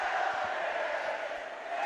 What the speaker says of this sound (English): Just listen to these fans here. They are just giving them the business.